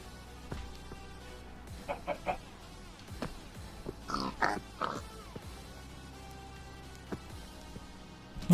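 Pig oinks and grunts from the video game Minecraft, several short snorting bursts in a scattered cluster, moderately loud over quiet game background.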